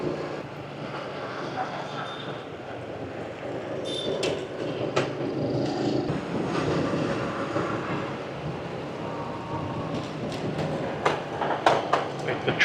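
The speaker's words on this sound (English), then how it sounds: "The train just runs through the middle of town." A train runs through the middle of a town in Vietnam, a steady broad rumble and rattle of the passing cars that lasts throughout, with scattered sharper clanks toward the end and no clear talk over it.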